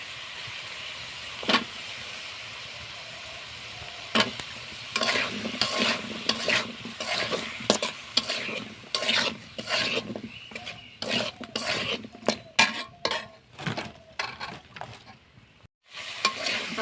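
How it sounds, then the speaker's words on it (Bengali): Vegetable curry is stirred and sautéed in a pan in a village kitchen, with repeated scraping stirs over a steady sizzle. The stirring grows busier and louder as it goes on, with no talk. "তরকারি গুলো কষিয়ে নেবো"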